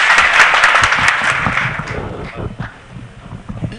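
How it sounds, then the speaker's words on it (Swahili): A crowd at a Deliverance Church gathering in Kaplong, Bomet breaks into loud, sustained clapping that swells early on, then thins and tapers toward the end. "Makofi kwake tafadhali."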